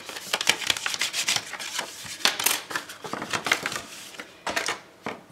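Folds of a paper pop-up carousel card are pressed and creased firmly, giving close, crisp scraping and crinkling strokes in quick irregular bursts.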